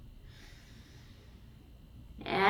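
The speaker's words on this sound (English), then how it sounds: "Inhale and exhale." Deep yoga breathing: a slow, soft drawn-out breath, then a louder, sharper exhale rising toward the end, close and alone.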